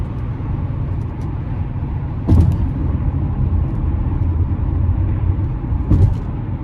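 A 2016 Tesla Model X 90D electric SUV accelerating, heard as a low, steady road and cabin rumble with a couple of brief thumps from inside the vehicle, and no engine note and no talk.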